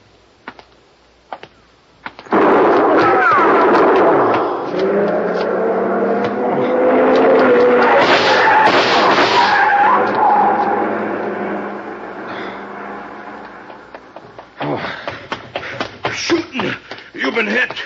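A loud car speeds away in an old-time radio detective drama, roaring engine and squealing tires sweeping for about twelve seconds before it fades, preceded and followed by scattered clicks and studio sounds.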